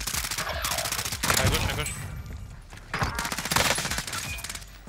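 Rapid automatic gunfire from the video game Warzone crackles in dense bursts throughout, loud and close, with players talking over it.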